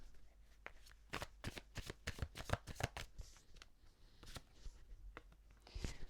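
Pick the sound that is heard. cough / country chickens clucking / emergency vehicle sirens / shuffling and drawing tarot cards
shuffling and drawing tarot cards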